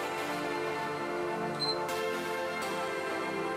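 A Nikon D90 camera set to interval shooting fires its shutter, giving a few soft, brief clicks spaced apart over a quiet background hum.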